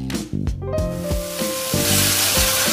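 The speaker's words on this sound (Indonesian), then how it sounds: "Aduk-aduk tumis kembali sampai tomat dan pete matang." Tomatoes and petai are stir-fried in a pan with salty tauco soybean paste, giving a steady close sizzle and hiss broken by repeated sharp clinks of a utensil scraping and tapping the pan.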